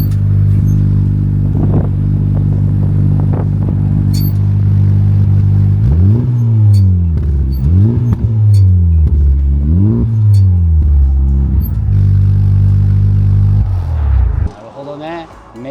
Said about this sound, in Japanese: ちょっとエンジンかけてみてもらっていいですか